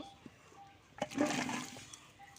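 Water sloshes into a kadai set on a stove for boiling young jackfruit, a brief rushing pour of about one second after a quiet start, with no talking.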